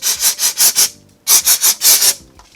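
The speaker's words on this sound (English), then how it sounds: "Take a wire brush, a metal, or take a brass metal brush and clean this up" A brass wire brush scrubs rear brake parts during a brake replacement, in two bursts of five or six quick, loud, rasping back-and-forth strokes separated by a short pause.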